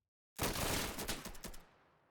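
A ceremonial rifle volley fired as a salute, one sharp crack of several rifles together followed by a rolling echo that fades away.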